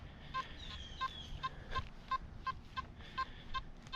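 A metal detector gives a series of short beeping tones at an uneven, fairly quick rhythm from trash in a hole, fairly faint over a low background hum.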